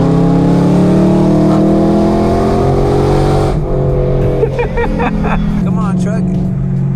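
A BMW E92 M3 with a loud exhaust accelerates hard through a canyon, its engine note rising steadily and echoing before easing off and settling into a lower drone.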